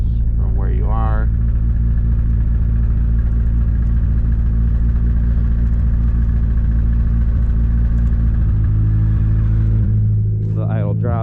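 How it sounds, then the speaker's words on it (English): A Nissan S13's engine idles steadily up close, a low continuous rumble that sags slightly near the end as the ignition timing is retarded, with someone talking briefly over it at the start and finish. "The idle drops, so that means it retarded another 10 degrees."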